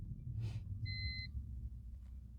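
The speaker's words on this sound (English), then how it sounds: "I was hoping I looked that up just to see if this beep could easily be fixed by maybe disconnecting the sensor" A car's sensor warning beep sounds once, a short two-tone electronic chirp near the middle, over steady low road and cabin rumble.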